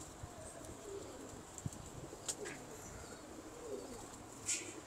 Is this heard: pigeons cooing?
yes